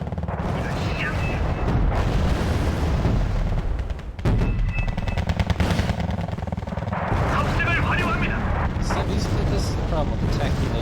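Artillery fire in the war strategy game Wargame: Red Dragon, repeated booms and rapid gunfire bursts with loud explosions, dense and close, continuing throughout with voice talk mixed in.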